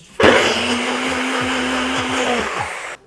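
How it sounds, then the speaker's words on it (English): An electric blender whirs through a rum cocktail mix containing toasted sesame oil, running in one loud, steady burst of nearly three seconds that starts and cuts off abruptly, with no talking over it. "it would be nice to plug in the blender"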